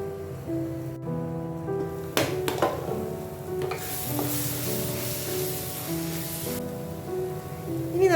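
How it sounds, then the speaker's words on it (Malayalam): Fish curry made without coconut sizzles and hisses in a pan as it is stirred, with scraping stir strokes and clinks over steady frying noise at close range. "ഇളക്കി കൊടുക്കാം"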